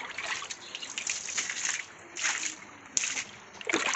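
Water being splashed and poured to rinse out a pigeon loft, a steady close trickling and sloshing with a few stronger gushes, no talk.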